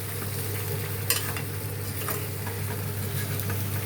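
Village-style mango curry stirred in a pan, with a steady sizzle and frying hiss under soft scraping of the spoon, continuous and close with no voices.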